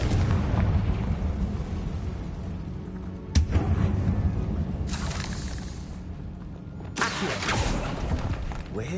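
A Confringo fire spell blast in the Hogwarts Legacy video game, a sharp explosive burst with crackling debris over a continuous rumbling game soundscape, followed by further whooshing bursts.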